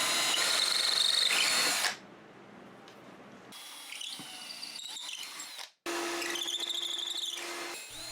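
Power drill driving screws into wooden cornhole board legs and cross piece, with a loud close whir, a quieter stretch of brief bursts, then another strong run.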